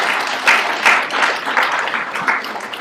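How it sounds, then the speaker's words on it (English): An audience in an architecture history lecture hall claps in welcome, a brief, lively burst of applause from a roomful of students, fairly close and loud. "Big round of applause."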